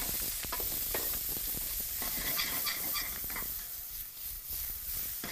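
Garlic, ginger and Portuguese sausage sautéing in an oiled wok, a close, hissing sizzle with clicks and scrapes of tossing and stirring, fairly loud and continuous.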